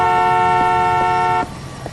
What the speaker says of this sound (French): Et là, doucement avec le klaxon.